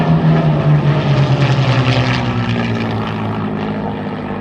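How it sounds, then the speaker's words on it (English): Airshow aircraft in a victory flight peel away from formation one after another, a loud droning engine roar with a pitch that slides downward as the planes pass and recede. "here is the victory flight breaking one after another"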